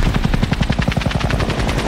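Helicopter rotor thudding in a rapid, steady chop during a gas rocket attack in a 2024 film remake of The Wages of Fear, loud and close, with gunfire-like bursts mixed in.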